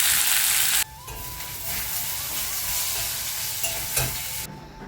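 Vegetables sizzle and crackle in a hot pan while being stirred, with a steady close frying hiss broken by scraping stirs and a brief louder burst near the start.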